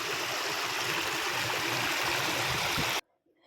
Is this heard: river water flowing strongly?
yes